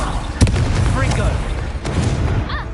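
A Confringo fire spell in the video game Hogwarts Legacy goes off as a sharp explosive boom, followed by a second burst over a low rumbling game background, with a voice briefly audible.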